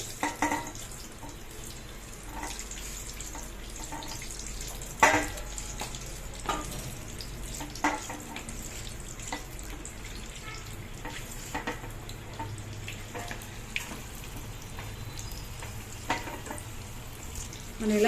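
Chili bajji (mirapakaya bajji) fry in hot oil with a steady, quiet sizzle, broken now and then by sharp clinks and small splashes, with no voices.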